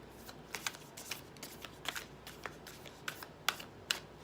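Tarot cards being shuffled by hand, a run of crisp riffling snaps and soft slides at an irregular rhythm, close and fairly quiet with no voices.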